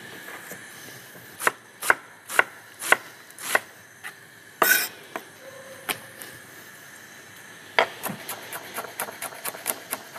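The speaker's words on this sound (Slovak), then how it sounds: "Cibulu s cesnakom si nasekáme nadrobno." A knife finely chops onion and garlic on a cutting board in a kitchen, giving sharp, distinct strikes: a slow, spaced series of cuts at first, then a quicker run of lighter chops near the end.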